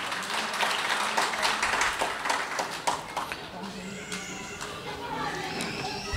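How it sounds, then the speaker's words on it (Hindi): An audience at a Bihar and Jharkhand Diwas stage event claps for Afroz, a dense, loud burst of applause that fills the hall and slowly thins out. "एक बार और इनकी हौसला अफजाई के लिए अफरोज़ साहब के लिए तालियां बजाएं"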